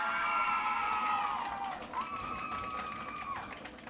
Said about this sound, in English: The crowd erupts over something.